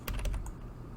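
Computer keyboard keys pressed while modelling in Blender: a quick cluster of four or five close, crisp clicks in the first half second, then quiet.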